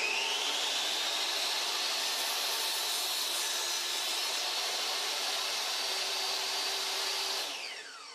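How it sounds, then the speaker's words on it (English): A table saw rips steadily through a wooden piece, shaping stock for a tenon on a collapsible Halloween gallows. The loud, continuous whine runs unbroken for several seconds, then tapers off as the blade winds down. "I'm still going to use the table saw to cut off the other side though."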